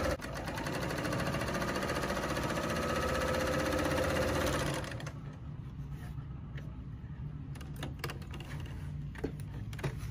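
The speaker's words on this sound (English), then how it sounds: "So when you're serging, just make sure you're catching all those layers together." A serger overlock sewing machine runs steadily while stitching a pillowcase seam through several fabric layers, a dense, rapid mechanical whir that stops about halfway through, leaving faint ticks and handling noise.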